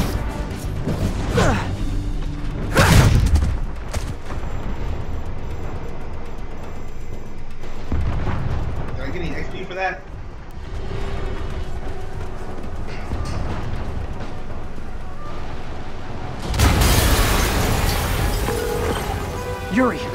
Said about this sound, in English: Yuri, an explosion just... I saw it.